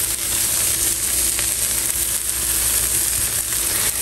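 Cheese frying in a hot pan, a steady loud sizzle and crackle that holds evenly throughout, close up with no talking.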